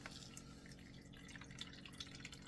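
Water squeezed from canned tuna drips steadily in small, faint, close drops, with no talk over it.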